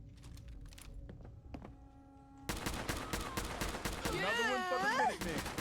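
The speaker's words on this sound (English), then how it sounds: "Opening fire." Gunfire in Fallout 4, a rapid burst of loud shots and sharp impacts, with quieter clicks and thuds before it and warbling electronic tones over the later firing.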